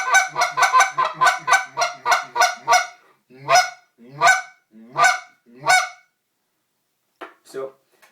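A goose call honks in a quick run of loud, nasal blasts, slowing to spaced single honks, then two softer ones after a pause.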